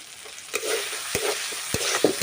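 Spice paste frying and being stirred for soybean curry, a close bright sizzle broken by several sharp spatula knocks against the pan.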